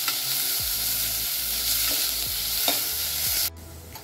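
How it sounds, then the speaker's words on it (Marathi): Finely chopped onion sautés in a hot pot for rajma curry, a steady close sizzle with repeated scraping stirs of a spoon against the metal, and the frying noise drops sharply near the end. "तर आपल्याला कांदा गुलाबी होईपर्यंत परतायचा"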